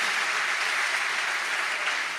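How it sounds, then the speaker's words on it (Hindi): Audience applause at a devotional storytelling discourse on Radha and Krishna, a steady broadband wash of many hands clapping together, sustained and even throughout with no voices over it. "इस पर तो जोरदार ताली बजाओ"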